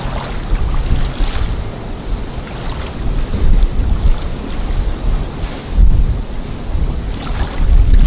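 A boat pounds through rough ocean waves, with loud, steady wind roaring across the microphone and surf crashing alongside; no voices are heard.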